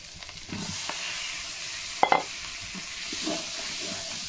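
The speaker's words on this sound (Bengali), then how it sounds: "এখন আমি চিংড়ি মাছগুলো দিয়ে দেবো।" Giant freshwater prawns go into a pan of ground spices for a Bengali malaikari, setting off a soft, steady sizzling hiss that continues throughout, with a brief clatter partway through.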